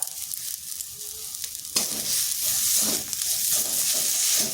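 Potato patty filling with coriander leaves stirred in a hot pan: a quieter hiss rises abruptly into a strong, steady sizzle with soft scraping of the spatula, close up and without talk.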